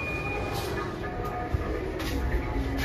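A Delhi Metro train rumbles on the platform, a steady mechanical roar with rail noise and faint station bustle, fairly loud and continuous.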